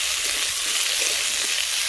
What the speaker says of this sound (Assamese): এই দালিখিনি মই ভাজি ল'লোঁ